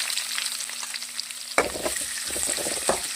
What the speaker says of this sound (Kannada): ಈಗ ಈ ಈರುಳ್ಳಿ ಸ್ವಲ್ಪ ಫ್ರೈ ಆಗಬೇಕು. ಫ್ರೈ ಮಾಡ್ತಾ ಇದ್ದೀನಿ.